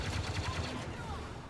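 Heavy gunfire from a large weapon in the Star Wars Battlefront II campaign, a steady stream of low, booming shots rolling continuously and fairly loud, with a faint voice underneath.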